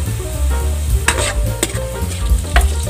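Garlic frying in a pan until golden brown, a continuous close sizzle broken by several sharp utensil clinks and scrapes against the pan.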